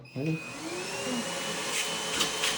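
A Grunhelm cordless vacuum cleaner whirs steadily at close range, starting up with a brief rising pitch and then holding a continuous motor hum with a high whine on top, with no voices.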